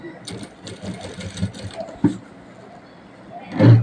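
A sewing machine stitches piping onto a round-neck blouse, giving a steady rapid needle chatter at close range, then a clunk and a louder thump near the end, with a voice talking over it.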